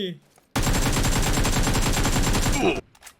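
A loud, rapid burst of gunfire with aim-lock in PUBG Mobile, a steady stream of sharp shots lasting about two seconds and then stopping abruptly.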